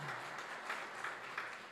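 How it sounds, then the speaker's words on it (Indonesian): A church congregation applauds, a faint, steady wash of many hands clapping at a distance with slight swells. "Tepuk tangan yang meriah untuk kemuliaan nama Tuhan."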